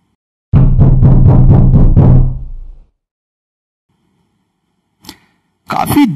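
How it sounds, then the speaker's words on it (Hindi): A rapid series of about six heavy knocks on a door, loud and close with a booming resonance, then silence broken by a couple of short sharp taps. "मैंने दरवाजे पर दस्तक दी।"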